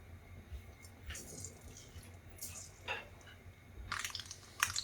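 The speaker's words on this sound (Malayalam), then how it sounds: "കടുക് നന്നായിട്ട് പൊട്ടി വന്നിട്ടുണ്ട്" Mustard seeds pop and crackle in hot oil, scattered sharp sputters at irregular intervals, soft and close.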